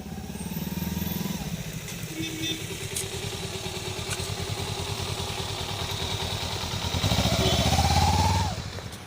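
A Kawasaki Ninja 300 motorcycle engine hums steadily up close as the bike rolls slowly over a speed breaker at an angle, with faint clatter and a rise in revs near the end.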